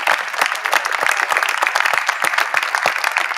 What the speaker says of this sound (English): I would like to give a big round of applause to the ratings committee of the WBC.